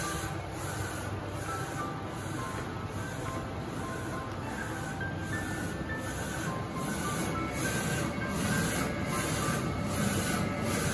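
An NC-UV0406 A2-size UV printer runs steadily while printing on a cone-shaped bottle held in a jig, giving a continuous mechanical hiss and whir with faint rhythmic pulses and no talking.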